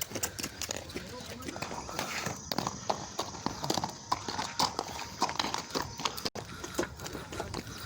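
A ridden horse walks at a Dubai farmhouse, hooves clip-clopping in a steady, fairly close rhythm while people talk over the footfalls.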